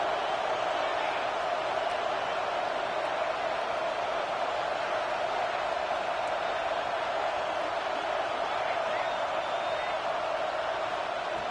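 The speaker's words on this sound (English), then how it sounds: "listen to this crowd noise. This stadium is vibrating." Stadium crowd noise from the college football video game NCAA 26, a dense, steady roar that holds at an even loudness throughout with no talk over it.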